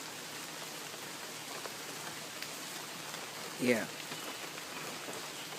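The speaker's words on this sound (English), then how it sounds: "Hope you enjoy the clips of rain." Heavy rain falls steadily at a flooded campsite, a constant broadband hiss of drops on surfaces throughout, with a brief louder splash or knock midway and a person speaking a single short word.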